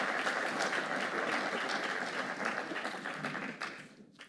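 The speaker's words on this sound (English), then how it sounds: "Give her a huge round of applause and thank her for being with us here today." Audience applause for a government minister at an Irish Men's Sheds Association conference, a dense steady clapping from a large seated crowd that holds strong and then thins and fades toward the end.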